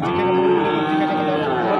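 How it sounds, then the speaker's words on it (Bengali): At a border-area cattle market, a bull or cow gives one long, loud, close moo lasting the whole moment, with faint crowd noise behind. "আমরা দেখলাম ষাঁড় গরু চমৎকার সাইজের"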